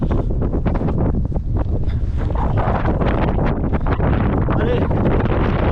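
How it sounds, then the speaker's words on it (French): Strong, cold wind buffets a runner's microphone on an exposed trail climb after the 42 km aid station in the Cantal mountains, a loud continuous roar with gusty surges throughout. "Mais là, le vent arrive violemment."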